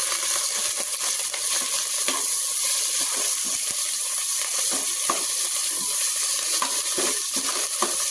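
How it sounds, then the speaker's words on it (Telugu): Ingredients for tomato bath fry in hot oil in a pan with fresh coriander added, giving a steady close crackling sizzle punctuated by scattered clicks and scrapes of stirring, with no voices. "ఇది కూడా నూనెలా మంచిగా వేగాలి ఫ్రెండ్స్"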